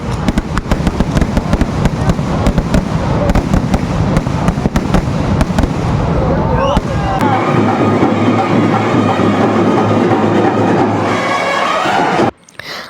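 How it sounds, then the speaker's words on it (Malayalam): Fireworks at the Puthuppally church festival in Kerala: a dense barrage of loud, sharp bangs and crackles, then a sustained rolling roar of continuous explosions close by. "പിന്നെ അത് കഴിഞ്ഞ് നമുക്കവിടെ വെടിക്കെട്ടൊക്കെ ഉണ്ടായിരുന്നു"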